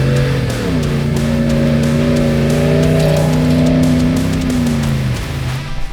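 A 2026 RAM 1500 Warlock pickup with a HEMI V8 and rear locker engaged slides on an off-road course, its engine droning loud and steady with a rising pitch, a tire squeal running under it.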